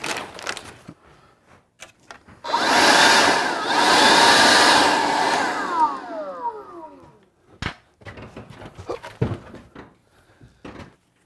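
A homemade ping pong machine gun vents compressed air in a loud, sustained hiss of about five seconds, followed by shorter clacks and bursts of mechanical noise with no talk.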